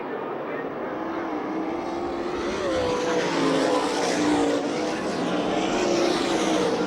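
USAC National and CRA sprint cars roaring around the Phoenix track during a heat race, a steady droning engine wash that swells slightly midway, with an announcer talking over it.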